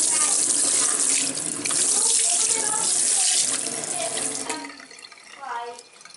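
Running tap water splashing into a sink as slime is rinsed off hands, a loud steady gush that eases toward the end, with faint children's voices underneath.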